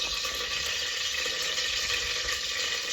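Mustard seeds fry and sizzle in hot oil, giving a steady, dense crackling hiss that runs loud and unbroken throughout.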